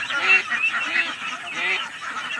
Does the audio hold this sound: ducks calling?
yes